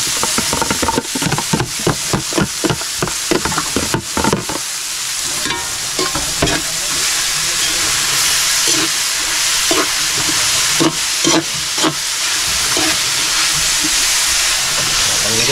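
Bitter gourd (ampalaya) sautéing in a pan, with repeated scraping stirs at first and then a continuous loud sizzle and hiss close by, broken by a few more stirring scrapes, and no speech.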